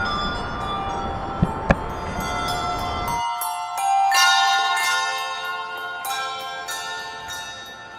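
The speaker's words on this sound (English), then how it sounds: "we are now starting the service with the ringing of the bells" Church bells ring out in a steady, overlapping peal with bright metallic tones at a downtown Louisville vigil, heard alone with no talking, continuing for several seconds.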